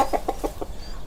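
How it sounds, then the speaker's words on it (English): Hens cluck in a garden as they come to peck at bare earth, giving about five short, evenly spaced clucks in quick succession, close and clear. "3 hens come to peck at the bare earth"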